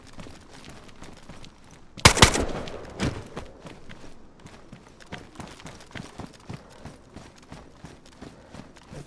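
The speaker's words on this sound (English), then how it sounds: "I think suppressor isn't helping as much as I was hoping it would." Suppressed gunshots ring out in the survival video game DayZ, a sharp burst of muffled shots early on followed by softer scattered thuds and footsteps-like taps, with no talk.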